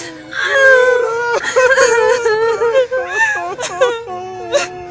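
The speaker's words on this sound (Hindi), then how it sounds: "सब रो रो कर बुरा हाल कर रहे थे।" A family grieving a father's death cries and wails together, with drawn-out sobbing and moaning voices rising and breaking, loud and close throughout.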